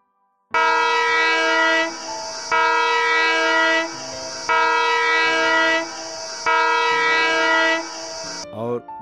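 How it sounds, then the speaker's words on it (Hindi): An Indian Railways locomotive sounds four loud, sustained horn blasts in a regular rhythm, each a brassy chord with short gaps between, followed by a brief squeal at the end. "और बार बार चार छोटा सीटी बजाकर"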